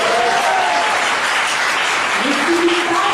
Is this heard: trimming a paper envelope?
no